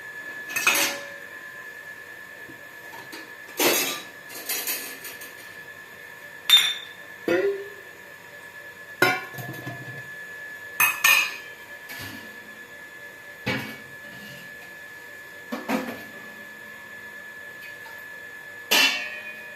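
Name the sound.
mixing masala vada batter with chickpeas in a bowl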